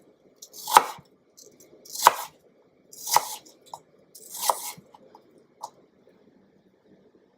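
A knife chops apples into small cubes on a cutting board: four or five sharp, crisp chops, each followed by lighter taps and scrapes, close by and alone without talk.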